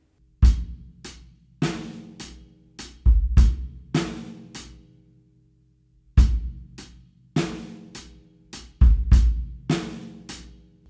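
A programmed drum beat recreating the groove of a song, with punchy bass kicks and sharp snare hits in a steady repeating pattern, a pause partway through, then the groove returns.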